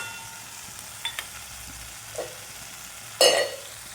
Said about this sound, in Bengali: আর লঙ্কা, টমেটো একসাথে মশলাটা কষে নেবো।